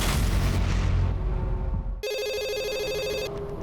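A telephone rings loudly for about a second in a police-station scene from a crime drama, its bright trilling bell coming right after a dense, rumbling stretch of background noise.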